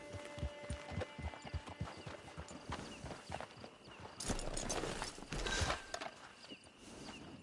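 Horse hooves trotting in Red Dead Redemption 2, a quick, even clopping beat that continues throughout with a louder, noisier stretch of movement and jangling gear in the middle; no talking.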